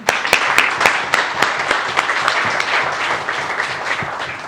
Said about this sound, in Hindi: जनाब पुरजोर तालियों के साथ।